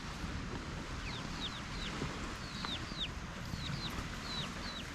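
Hens in a permaculture garden food forest give scattered soft clucks and brief chirpy calls over a steady outdoor background hiss, moderately near and fairly quiet.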